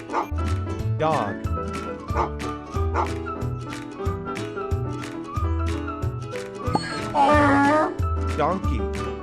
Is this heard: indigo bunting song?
no